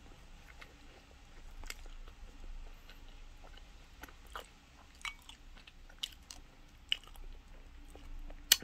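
A croffle, a waffle-style pastry, is eaten close to the mic, with soft, irregular crunchy bites and chewing over a faint, quiet background.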